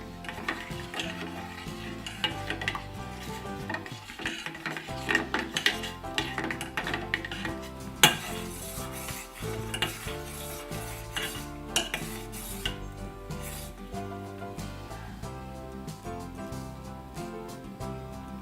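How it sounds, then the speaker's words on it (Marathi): A metal spoon clinks and scrapes around a pot of coriander coffee with cardamom powder simmering on low heat, with repeated stirring knocks over background music. "परत एकदा फिरवून घेऊया चमच्याने"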